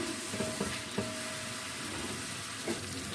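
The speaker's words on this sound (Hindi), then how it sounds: "प्याज को ऑयल में हम मिक्स कर लेते हैं और फ्राई कर लेते हैं" Onions fry in oil, a soft, fairly faint sizzle with a few light stirring knocks and scrapes near the start and end.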